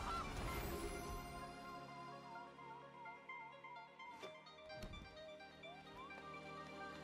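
A goose honk sound effect from the card game MTG Arena plays over a busy, continuous layer of game music, with a couple of sharp tonal blips near the end.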